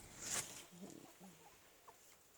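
Buff Orpington and Brahma hens cluck softly nearby, a brief higher squawk followed by a few low, quiet clucks spaced apart.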